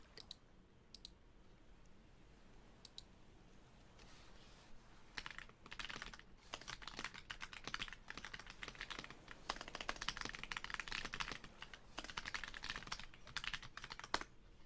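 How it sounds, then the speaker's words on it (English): Computer keyboard being typed on during a stream, quiet clicking keystrokes in irregular bursts that start sparse and grow busier and denser, heard close up and alone. "I really like the sound of my keyboard."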